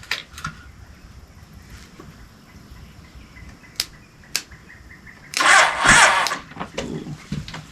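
After scattered clicks and quiet, the 1980 Honda CB 900 engine on a custom lawnmower trike that had sat for years gives one loud, rough cranking burst of about a second, followed by a few sputters.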